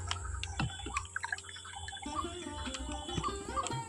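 Water going into a pot for masala tea, a faint, close trickle and scattered drips with light clinks from the vessel.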